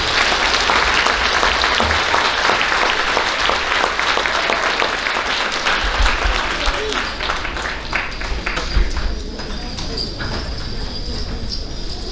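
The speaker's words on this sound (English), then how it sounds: "Please give these 5th grade students a large applause" A school crowd applauds fifth grade students at an elementary awards ceremony, with loud, dense clapping that gradually thins over about twelve seconds, accompanied by a few whoops and murmuring voices.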